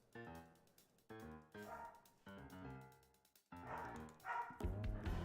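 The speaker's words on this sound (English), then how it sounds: "Goodness, that barking. Kind of, the scrangly coyotes outside the junkyard really are rambunctious today" Several loud, high, strained barks and yelps come in quick separate bursts, echoing like wild canines calling, ending in a rougher noisy rush.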